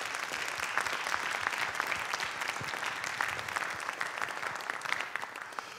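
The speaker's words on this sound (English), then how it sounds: "So let's give them another round of applause." A high school concert audience applauds the students at a spring music festival finale, with thick, continuous clapping from a large crowd filling the hall, steady and fairly loud throughout.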